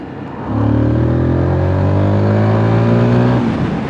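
A 2022 Zontes GK350 motorcycle in sport mode revs up steadily and loudly, its pitch climbing smoothly for about three seconds before easing off, heard close up.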